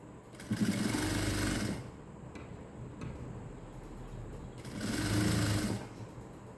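A sewing machine stitches the leg of a cigarette-style pant in two close, rapid mechanical bursts, separated by a quieter pause, with no talk.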